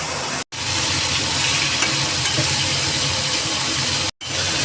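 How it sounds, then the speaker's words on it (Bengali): Potatoes fry with salt and cumin in a pan, giving a steady, loud sizzle and hiss that runs without pause, broken only by two brief cuts. "আলুটা ভাজা হচ্ছে, এটা পুরো ভালো করে লাল করে ভাজবো"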